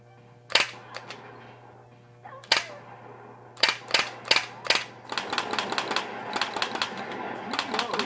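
Recoil arcade light gun from a Time Crisis shooter cabinet firing, a few separate sharp mechanical clacks followed by a fast burst of rapid repeated clicks in full-auto mode, close and loud over a steady hum.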